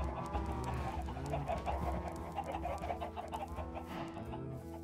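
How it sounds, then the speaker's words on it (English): Chickens clucking on a Minecraft farm, the video game's fowl sounds running steadily and fairly loud over a layer of background music, with no one talking. "I've got a load of chickens"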